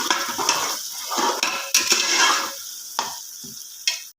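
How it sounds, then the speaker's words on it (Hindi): Large chopped tomatoes frying in oil inside a pressure cooker, a spoon scraping and clinking against the pot amid steady close sizzling, with a few sharper metal knocks toward the end. "मैं इन टमाटरों को इसी में गलाऊंगा, 3 से 4 मिनट पकाऊंगा और अच्छी तरह इनमें गला लूँगा।"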